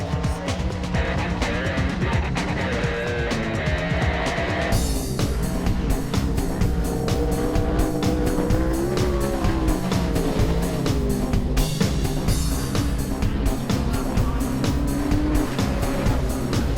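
Sprint cars race at Sydney Speedway on a speedway grand prix night, their engines a dense continuous roar at high revs that swells and shifts as the pack moves through the turns, loud and sustained throughout.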